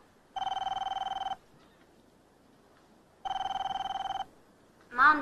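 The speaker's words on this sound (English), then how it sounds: "Mom, the phone's ringing." A telephone bell gives two long, even trilling rings with a pause between them, clear and near in a quiet room, followed by a brief voice at the end.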